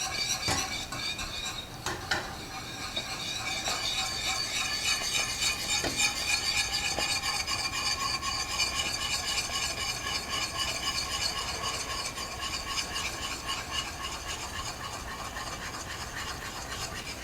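A spoon stirring a boiling pot of blueberry jelly mixture with sugar, continuous scraping and bubbling with a few clinks of utensil against the pot, steady and close.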